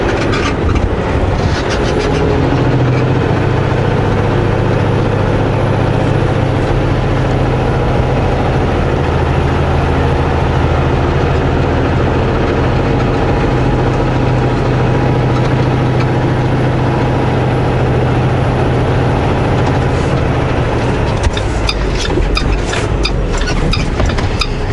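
A car with an automatic transmission pulls away in first gear onto a dusty mountain highway, its engine giving a steady, loud low drone that holds throughout, with a brief rattle of road noise near the end.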